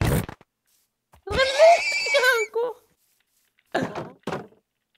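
A horse neighs once with a loud, wavering whinny in the middle, set between a couple of brief knocks or thuds, with short bursts of sound afterward.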